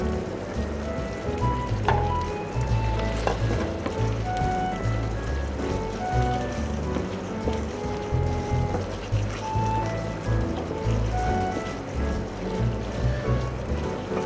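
Pasta goes into a very hot sausage sauce in a pan, raising a dense, continuous loud sizzle and bubbling that holds steady throughout.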